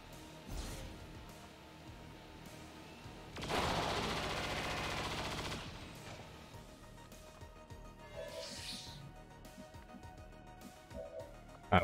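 A heavy burst of rapid automatic gunfire from the Blinding Fire ability in XCOM 2, roaring for about two seconds amid quieter game effects and ending with a few sharper impacts.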